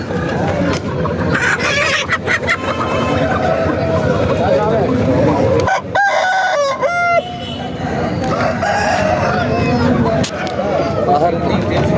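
A rooster crows loudly in the middle of a busy crowd at a Saturday country-chicken market, with constant chatter and clucking fowl all around.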